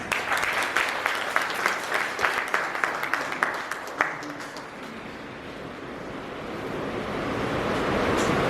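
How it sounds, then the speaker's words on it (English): Audience applause for children who performed at a school event, a dense burst of clapping for about four seconds that fades out, leaving a steady windy background noise. "the children who performed over here, they need a big round of applause."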